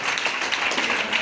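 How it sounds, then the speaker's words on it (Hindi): An audience at an Ayurvedic product presentation gives a brief burst of applause, a dense, even clatter of many clapping hands at moderate loudness, lasting just over a second. "एक बार जोरदार ताली हो जाए"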